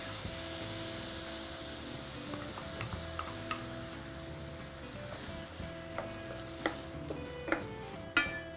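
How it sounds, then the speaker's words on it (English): A pan of sauce sizzles and hisses steadily while a utensil stirs, scraping and clinking against it now and then, growing a bit sharper toward the end. "Give it a stir"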